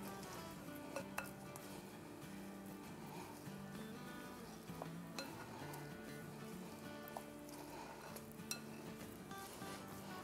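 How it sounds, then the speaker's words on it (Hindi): Potato filling for spring rolls being mixed and lightly mashed in a bowl, with soft continuous scraping and clinking of a utensil against the dish, fairly quiet, with no talking. "चले अब इन सबको अच्छे से मिक्स करते हैं, थोड़ा सा"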